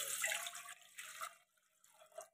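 Two cups of water are poured into a pot for rice-flour modak dough, splashing up close in a few uneven bursts that fade between pours, with no talking.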